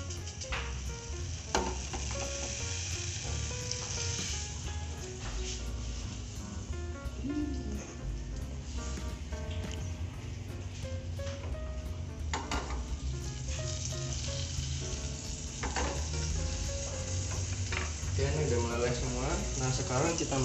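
Steady frying sizzle of butter melting in a pan throughout, with occasional clinks and stirring noises and some faint voices in the background.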